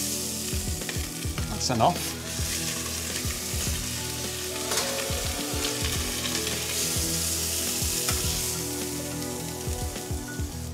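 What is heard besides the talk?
meat trimmings frying in oil and butter in a pan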